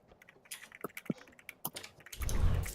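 Rapid clicks of a computer keyboard with a sticky, failing E key, typed during an Overwatch session, faint and irregular, ending in a louder rumble.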